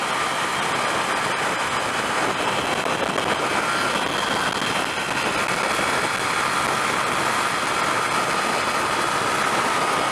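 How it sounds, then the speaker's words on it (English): A 125cc motorbike revving hard along the M11 motorway makes a steady, loud roar of engine and rushing wind that holds without a break. "this bike can do 65 miles an hour, but I'm stressing it"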